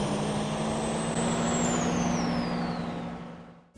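A turbocharged car engine in the Roblox game Greenville launches, roaring at high, steady revs with a whining turbo tone that glides downward, then cuts off abruptly near the end.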